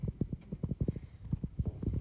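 Horse hooves set down on the ground during hoof cleaning, giving a series of soft, dull thuds and clops in an irregular rhythm, fairly close and moderately quiet.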